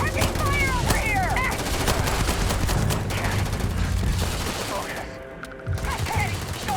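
Rapid gunfire rattles through a firefight in the video game Starfield, bursts of shots layered with automatic fire and chirping effects, dense and loud, with voices shouting over the battle.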